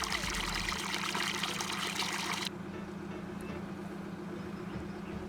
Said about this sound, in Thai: เสียงน้ำไหลโคตรดังเลย